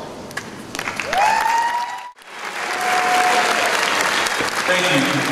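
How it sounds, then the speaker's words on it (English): Graduating seniors at a 2015 high school graduation ceremony in Richmond, Virginia applaud their teachers and staff, loud sustained clapping from a large crowd with a brief dip midway and whistles and cheers rising over it. "Please stand and allow our seniors to applaud you."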